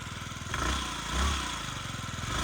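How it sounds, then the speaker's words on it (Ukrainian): A Yamaha Jog SA 57 fuel-injected scooter engine idles steadily nearby with a rapid, even putter, briefly swelling twice in loudness before settling back. "Двигунчик працює повністю ідеально."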